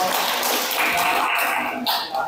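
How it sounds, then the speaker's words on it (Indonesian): Students in a classroom clap for a presenting group, a loud, busy burst of many hands that runs steadily with some voices mixed in, then cuts off abruptly. "Tepuk tangan buat kelompok"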